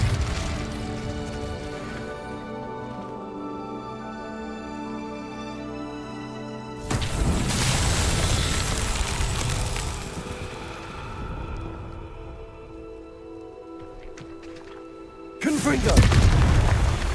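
Incendio fire spell cast in Hogwarts Legacy, a loud whooshing burst of flame that erupts around seven seconds and again near the end, over a sustained bed of game music and ambience.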